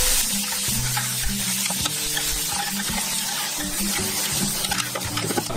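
Garlic and onion fry in a pan with a dense, continuous sizzle, while a utensil stirs and scrapes through them in short, irregular strokes.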